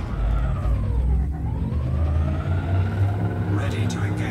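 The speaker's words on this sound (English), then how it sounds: "Frameshift drive charging." Frame shift drive charging up in a space flight game, a sustained low rumble with a sweeping tone that dips and rises, continuous and loud over a spoken computer announcement.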